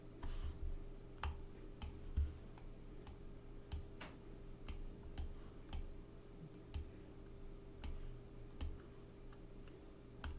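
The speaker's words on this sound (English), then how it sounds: "Guys hear all those damn clicks? Loud as hell, ain't it?" Sharp, loud clicks from a computer keyboard or mouse arrive one by one at uneven intervals, roughly every second, close up over a steady electrical hum during a coding session.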